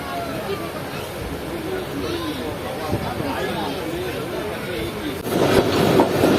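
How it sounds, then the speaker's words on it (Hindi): Marvi Passenger train pulling out of Jamrao Junction station after a three-minute stop, heard from on board: rolling rumble with rhythmic clatter that grows louder near the end, and someone talking over it. "तो अब ट्रेन तकरीबन 3 मिनट रुकने के बाद डिपार्ट कर रही है जमड़ाव जंक्शन रेलवे स्टेशन से।"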